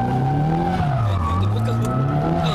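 A car drifting at Ebisu Circuit's Kurukuru Land practice area gives a loud, continuous tire squeal that wavers in pitch, with the engine droning steadily underneath throughout.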